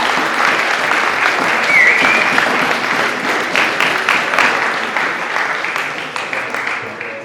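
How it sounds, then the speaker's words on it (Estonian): A school audience at a student council presidential debate gives sustained applause as a candidate is called to the stage, a dense wash of clapping that slowly thins and tapers off. "Esimesena palume aplausiga lavale kandidaat number 1 Martin Niglase."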